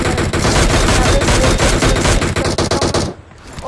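Intense video game gunfire in a fast-paced rush match: dense, loud automatic bursts and rapid shots in a continuous barrage that cuts off near the end.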